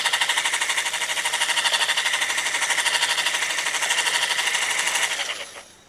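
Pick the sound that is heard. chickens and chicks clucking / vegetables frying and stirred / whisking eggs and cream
whisking eggs and cream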